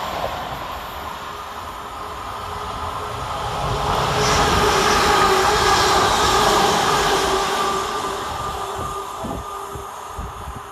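A London Northwestern Class 350 electric multiple unit train rumbles past at Sandwell and Dudley railway station, a broad rushing roar swelling in the middle then easing off, with faint squeals and clatter.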